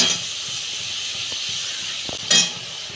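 A little water poured onto fried masala in a hot pan gives a continuous steamy hiss, with a few soft knocks and a brief louder burst of hissing near the end.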